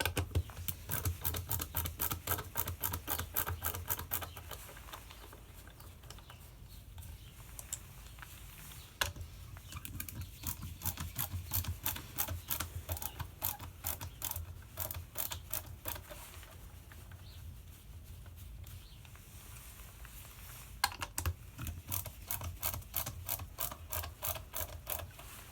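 Screws being backed out of a Ryobi power-tool battery pack, a busy run of quick ratcheting clicks and small mechanical ticks that continues through most of the stretch with brief lulls, close and fairly quiet.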